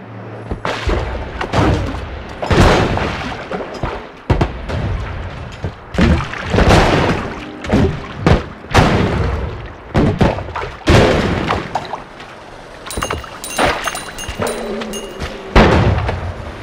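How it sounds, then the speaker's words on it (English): Repeated booms and thuds from explosions in the pixel-physics game Noita, loud and closely spaced in irregular bursts, with brief crackling and ringing tones between the blasts. "Still hearing explosions."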